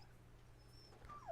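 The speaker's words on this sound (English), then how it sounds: "A dog?" Dog whimpering in a video game, a faint high whine rising near the end over a steady low game background hum.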